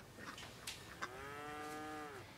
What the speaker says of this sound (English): I think it's time for us to go visit the cows in the barn